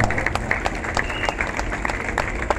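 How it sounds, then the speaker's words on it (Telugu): Audience applause at a Christian gathering honouring a preacher, a brief burst of many hands clapping at moderate distance with scattered sharp claps standing out. "అత్యంత ప్రియులు దైవజనులు రాజేశయ్య గారికి చప్పట్లతో ఒకసారి గట్టిగా"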